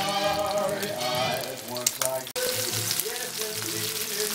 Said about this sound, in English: And let them sizzle up.